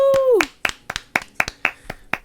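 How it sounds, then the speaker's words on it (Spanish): After a brief sung or spoken tone, a small audience at a church podcast recording claps in sharp, spaced, fairly rhythmic beats, close and distinct rather than a dense roar. "Un aplauso"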